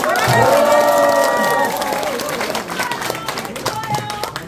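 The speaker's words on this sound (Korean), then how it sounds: "여러분 다시 한번 큰 박수 부탁드립니다" Applause and cheering from a crowd at a political candidate's campaign office opening in Daegu, South Korea. Loud, excited voices and shouts lead at first, then a lighter patter of clapping carries on more quietly.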